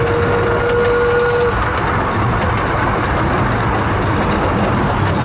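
Small steam train at Hesston's Steam Museum rolling past at close range, a loud steady rumble of wheels and running gear with a brief tonal whine at the start.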